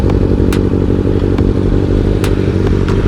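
A Kawasaki ZX6R motorcycle engine rumbles loudly and close, a steady throbbing drone broken by a few sharp clicks and clatters, with no voices.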